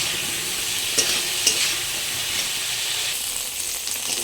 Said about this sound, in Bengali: একটু নুন দিয়ে দিলাম অল্প একটু হলুদ গুঁড়ো দিয়ে দিলাম দিয়ে ভালো করে নাড়াচাড়া করে একটু ভালো করে হালকা হালকা করে ভেজে নেব